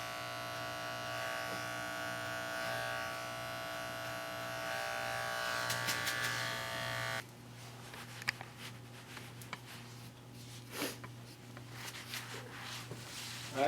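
Electric hair clippers buzz steadily at close range while tapering a low fade haircut on dirty blonde hair, then switch off halfway, leaving faint taps and small handling sounds.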